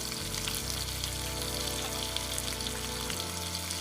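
Two small tomatoes frying in oil in a pan, giving a steady, close, continuous sizzle and crackle with no talking.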